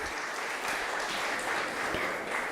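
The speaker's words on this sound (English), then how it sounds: "Let's hear a huge round of applause for him too." An audience at a biotech education panel session applauds steadily for a couple of seconds, a dense even clapping that fills the hall with no voices over it.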